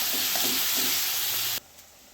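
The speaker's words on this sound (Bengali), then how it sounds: "এইভাবে একটু কষিয়ে নিচ্ছি।" Onions with ginger and garlic paste sauté in a hot pan with a loud, continuous sizzle and hiss for about a second and a half before it cuts off abruptly to near quiet.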